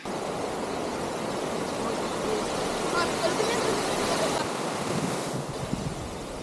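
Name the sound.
waterfall at New Athos, Abkhazia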